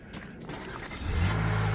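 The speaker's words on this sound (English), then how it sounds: "So you hear that true 4-cylinder motor" A Chevy Bison truck's four-cylinder engine cranks and catches partway through, then settles into a steady, louder running tone nearby, with no talking.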